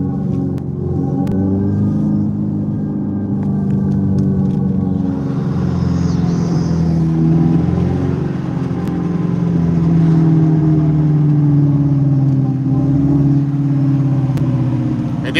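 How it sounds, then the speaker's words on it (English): A car with its aftermarket exhaust switched on accelerates, a close, loud engine rumble with a steady droning tone that rises as it speeds up midway through. "that sound from the exhaust, like, even with it on, people don't really pay attention to it."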